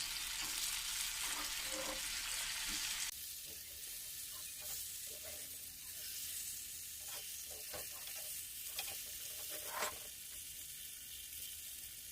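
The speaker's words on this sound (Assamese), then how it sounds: "এতিয়া চাওক মছলা পুৰি যোৱা নাই, ফ্ৰাই হৈ গৈছে" Masala frying in a pan for a dry cauliflower fry, a steady close sizzle with scraping stir strokes throughout; the hiss drops noticeably in loudness after about three seconds and carries on without talk.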